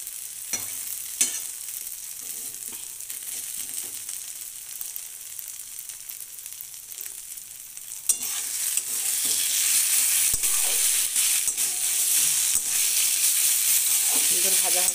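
Taro leaves with chickpeas frying in an iron wok: quiet crackling and occasional stirring clicks at first, then a loud, dense sizzle that swells and continues steadily to the end, with no talk.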